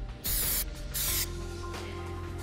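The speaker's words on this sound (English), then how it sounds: "we're gonna go ahead and work with our Awaken Mist" Two loud bursts of hair mist spray, each about half a second long, hiss out close by during a twist updo styling, then settle into a quiet room hum.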